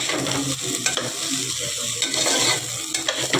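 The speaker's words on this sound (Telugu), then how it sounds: "ఇలా బాగా యాగనివ్వాలన్నమాట రైస్ని" Rice being stirred and fried in a hot pan, with continuous loud sizzling and steady scraping of a spoon across the pan, close up and with no voices.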